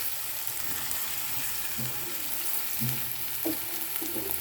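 Cluster bean fry with fresh coriander sizzles in a pan, with a constant close crackle and soft intermittent scrapes of a spoon stirring the mix.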